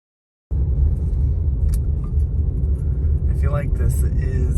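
A car rolls up the driveway to a farm cabin at a wedding venue, a steady low rumble of tires and engine starting abruptly, with a voice talking briefly toward the end.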